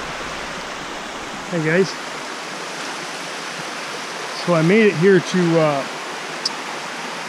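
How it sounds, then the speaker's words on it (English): Cold mountain spring water at a campground source in South Mountain State Park, North Carolina, rushes in a steady, close hiss throughout, with someone speaking briefly over it. "It's a nice cold mountain spring water. Pretty well moving."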